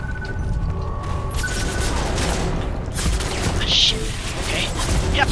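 Steady gunfire with a grenade blast in the Ghost Recon Phantoms video game, a dense continuous fusillade of shots and booms at close to mid range, with no talk over it.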